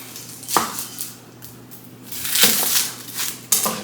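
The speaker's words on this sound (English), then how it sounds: "We're going to be cutting this up, y'all." A knife cuts onions on a cutting board while corned beef and cabbage is prepped, a few separate sharp knocks and scraping crunches spaced about a second apart, close and moderately loud.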